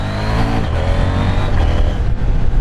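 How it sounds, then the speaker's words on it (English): A Husqvarna Svartpilen 801 motorcycle on its standard exhaust runs with a deep, loud, steady engine rumble that rises a little in revs, heard close with no speech. "the exhaust sound, this is a standard exhaust, it has more sound, more depth than the KTM Duke 990"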